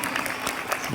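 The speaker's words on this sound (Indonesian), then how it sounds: "Tepuk tangan untuk si Alang." An audience at a Maulid Nabi gathering claps for Alang, a brief, dense burst of applause.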